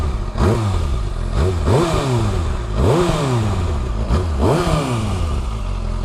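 A 2019 Kawasaki Ninja ZX6R sport bike engine revs up close and loud in four repeated rising bursts, each climbing in pitch then dropping back, with mechanical clatter underneath.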